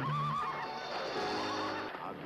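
A horse whinnies loudly in an old Western film scene, a wavering neigh up front, followed by busy background noise and faint hoof movement.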